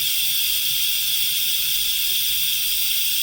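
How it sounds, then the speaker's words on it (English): Steam wand of a Roberts espresso machine blowing off steam, a loud continuous high hiss that holds steady without a break. "because it's blowing off so much steam"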